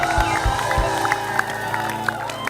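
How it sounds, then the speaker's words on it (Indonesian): An audience at an Indonesian comedy show claps and cheers, a dense crowd roar with whoops and a few sharp hand claps, while sustained musical tones ring beneath it. "tepuk tangan buat kita"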